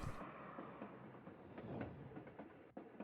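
A train in the Little Witch in the Woods video game runs along steadily with a low rumble and faint rhythmic clacking, quiet and continuous, briefly dipping near the end.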